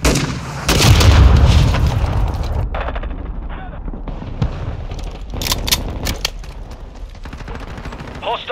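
Mortar strike explosions in Call of Duty Modern Warfare 2 domination on Shoot House: a heavy booming blast with rolling rumble, then scattered gunfire and further thuds, with a radio-style voice talking over it.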